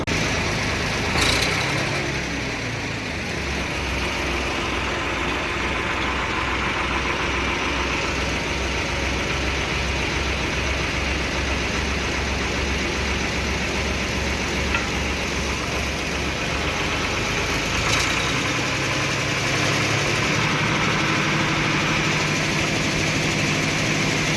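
A tractor engine idles in a farm setting during fodder hauling, a steady low rumble with a constant hum throughout, broken by a couple of brief sharp clicks, and no one speaks.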